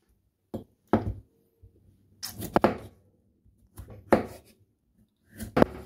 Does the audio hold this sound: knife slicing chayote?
yes